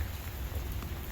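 Steady rain hissing down during a night walk, a dense even patter close around the listener that runs unbroken for about a second.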